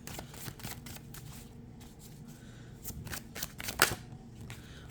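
Tarot cards are shuffled and drawn by hand, close up, with a run of quick papery riffles and slides, a few louder snaps near the end, and no voices.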